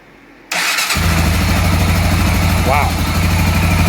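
A 2006 Honda 400EX ATV, just after a valve adjustment, cranks and fires up after a brief quiet moment, then settles into a loud, steady, close-up idle with a short voice heard over it.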